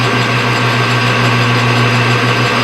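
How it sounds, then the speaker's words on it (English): Power drill boring a hole for a carburetor breather stud, a steady close whine with a constant pitch running the whole time, no pauses, heard alone with no talk. "I'm going to go ahead and drill the hole"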